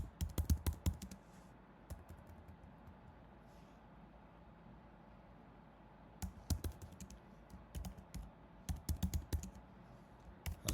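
Someone types a log message on a computer keyboard, quiet clusters of rapid key clicks in bursts at the start, the middle and near the end, separated by pauses.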